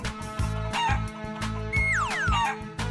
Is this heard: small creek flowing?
no